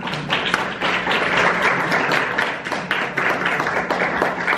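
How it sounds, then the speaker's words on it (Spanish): An audience applauds to welcome a speaker to a talk introducing Azure, a dense and sustained wash of many hands clapping that holds at an even level throughout. "recibámoslo por favor con fuertes aplausos"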